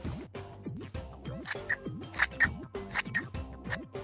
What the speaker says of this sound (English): Now we can cut all of our pieces out, but be careful because scissors are sharp